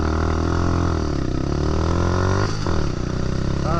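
A Lexmoto LXR 125 motorcycle with a slip-on exhaust end can, riding in the rain, drones steadily and loudly throughout with a constant engine note and a brief dip and rise midway.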